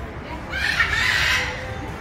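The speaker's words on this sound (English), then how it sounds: "there's not usually parrots here, but we've come on a day where there's parrots" Parrots call at a beach resort in Alanya, Turkey, giving a harsh raucous squawk of about a second over steady outdoor background noise.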